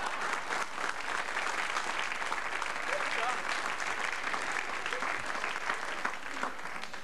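A large theater audience at a 1998 German political cabaret show applauds steadily, a dense, even roar of clapping that stays at full strength for the whole stretch with no voices.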